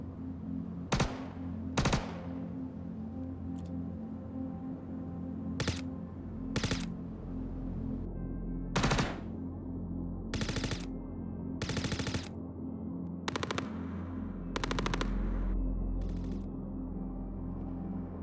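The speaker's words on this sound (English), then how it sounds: "we're just going to do a quick test here and show you guys the difference between having your silencer on versus having it off" Gunfire in the Star Citizen video game, fired with and without a silencer: sharp single shots and short bursts spaced irregularly over a low ambient hum, some louder and crisper than others.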